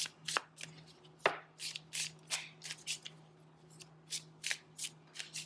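Tarot cards shuffled by hand, close and crisp: a steady run of about a dozen quick riffling bursts, each brief and papery, over a faint low hum with no talking.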